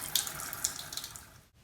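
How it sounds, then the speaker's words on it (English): A tap runs with the water supply just restored, a close, steady hiss and splash with a few sputtering bursts before it cuts off abruptly near the end. "You can see that the water's come back on."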